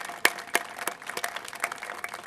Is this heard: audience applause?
yes